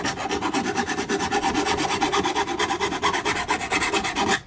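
A hand file rasps steadily over a wooden fishing rod holder for a Honda Rancher, making quick continuous back-and-forth strokes, loud and close with no talk.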